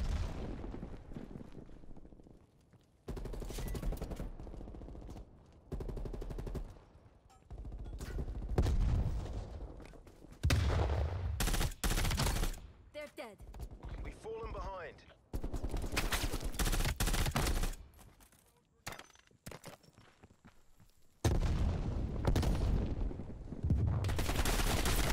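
Repeated bursts of automatic gunfire from a weapon in Black Ops Cold War on a desert map, loud rapid volleys broken by short pauses across the whole stretch.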